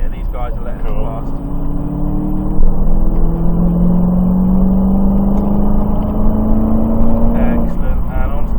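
Dodge Challenger Hellcat accelerating hard, with a loud, sustained engine roar that rises steadily in pitch over several seconds, heard from inside the car while someone speaks briefly at the start and again near the end.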